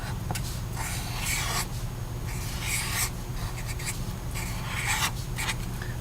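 Pen or marker scratching steadily on paper while an answer is written onto a graph, a close, continuous rasping in short bursts over a low hum, with no talking.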